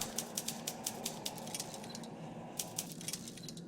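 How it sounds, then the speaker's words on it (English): Soft, evenly spaced typing clicks come from the puzzle game The Room Two, quiet and regular, pausing briefly before a few more keystrokes. "And then it starts typing something you can't see."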